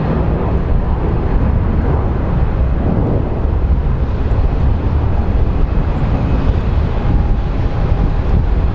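A JetBlue airliner departing Phoenix Sky Harbor airport, a steady broadband roar that holds loud and continuous throughout, with some wind buffeting on the microphone.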